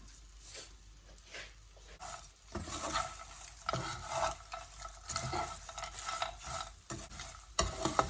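Chicken sambal being stirred and tossed in a pan over the stove, with repeated scraping spatula strokes in an uneven rhythm over a soft background sizzle, close and fairly quiet, with no voices.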